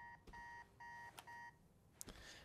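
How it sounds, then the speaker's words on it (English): Alarm clock beeping in the video game Marvel's Spider-Man 2: repeated bright electronic beep trains in a steady on-off rhythm, fairly quiet, broken by a couple of short clatters. "Who has an alarm for 12 a.m.?"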